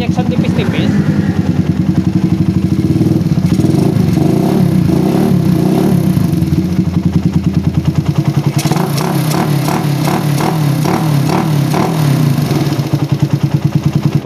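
A motorcycle fitted with a PE 24 carburetor, running too rich from low to mid RPM, idles and revs loudly and close, with a continuous rattling engine note throughout.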